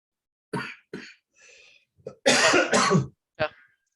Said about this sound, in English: I need to stand up because I'm coughing a bit.